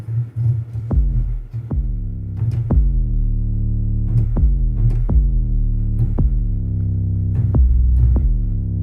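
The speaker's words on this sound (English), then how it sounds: "this is the 808 that I used." Deep 808 bass notes hit one after another, each a booming tone with a quick attack that slowly decays, playing a simple melodic pattern.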